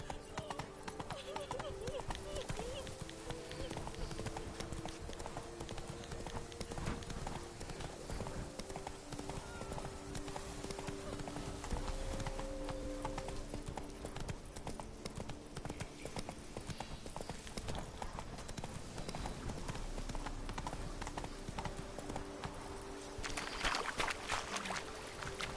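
Roach the horse's hooves clip-clop steadily in The Witcher video game, a continuous rhythmic trot with a faint voice and game ambience underneath.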